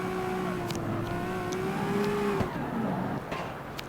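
A tuned car drifts in the street-racing video game CarX Street, its engine note rising and falling in long revving sweeps with brief squealing tire bursts, played alone with no talking.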